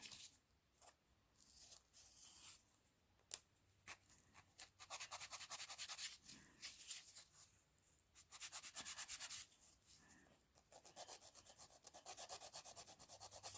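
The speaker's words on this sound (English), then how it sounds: "Filing around my cuticles to get that line nice and rounded." Fingernails being filed around the cuticles to round the shape during an at-home dip powder manicure, heard as close, soft rasping strokes in short bursts separated by brief pauses.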